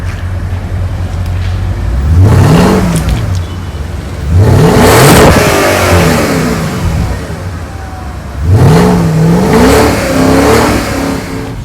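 A 2010 Porsche Panamera S starts up and revs, its exhaust rising and falling through three loud bursts over a steady idle. The engine sits close and loud, with no talking.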